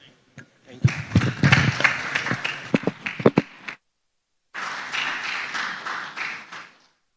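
A conference audience at IMT 2023 applauds its panelists in two bursts, first a loud, dense round of clapping with a few sharp claps, then after a brief silence a second, softer sustained round.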